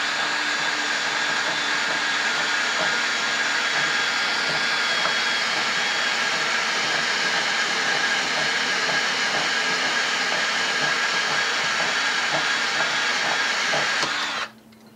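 Electric drill spinning steadily while a cutter bites through a 3/8-inch aluminum Yagi antenna element, a loud continuous whine with hissy grinding that runs about fourteen seconds before cutting off abruptly.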